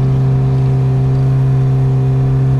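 A Mitsubishi Lancer Evo X engine, started cold early in the morning, revs and holds steady near 4,000 RPM, giving a loud, continuous mid-pitched drone with a strong steady hum and no talk over it.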